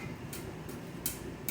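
Sharp popcorn kernel pops ring out now and then, about four across a second and a half, over a steady crackling sizzle from a pot.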